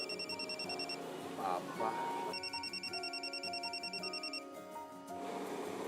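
A phone ringing with a repeating electronic ringtone in bursts, fairly clear over a quiet room, while a sleepy voice briefly speaks partway through.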